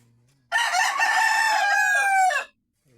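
A rooster crows once, loud and close, a long harmonic call lasting about two seconds before cutting off to quiet.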